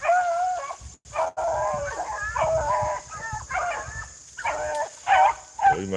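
A pack of beagle hounds bays and barks on a rabbit chase in the brush, with overlapping yelps and howls in bursts, moderately near, along with a steady high background hiss.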